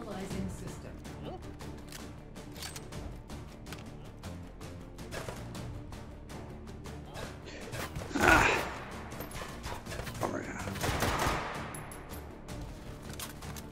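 Shotgun fire in the VR shooting game H3VR, a few sharp loud blasts standing out among clicks and handling noise, with a person talking quietly underneath.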